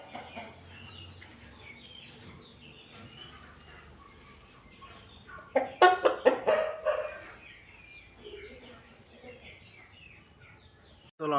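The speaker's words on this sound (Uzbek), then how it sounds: "Mana xo'rozimiz." A rooster gives a short burst of loud, close clucks partway through, standing out over a quiet, murmuring outdoor background.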